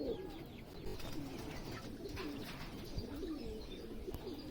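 Female Fulsiya Madrasi pigeons on a farm coo softly, in repeated low throaty rolls overlapping every second or so, faint and steady against light background noise.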